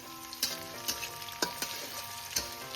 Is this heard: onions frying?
yes